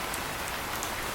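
Heavy rain pours steadily in a cartoon, a dense, even hiss of drops on surfaces throughout with no voices.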